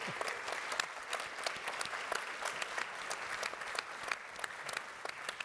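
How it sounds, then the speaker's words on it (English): An audience at a conference panel on financing and governance claps steadily and briskly throughout, a fairly faint, even patter of many hands. "should we clap? We clap."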